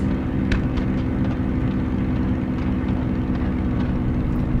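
Aircraft engine in Microsoft Flight Simulator, running rough and making odd noises: a loud, steady low drone with a faint, irregular rattle over it throughout.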